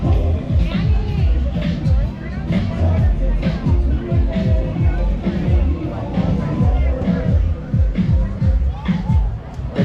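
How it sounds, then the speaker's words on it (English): A dense crowd chatters at the Pacifika food festival, a busy babble of many voices close by with some nearer talk rising over the din. "The crowds are pretty huge here for the food."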